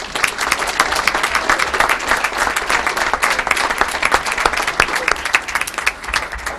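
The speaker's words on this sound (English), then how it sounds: "give them a round of applause, guys" An audience gives sustained applause for a school team at a board of education meeting, a dense steady wash of many hands clapping with a few sharper nearby claps standing out throughout.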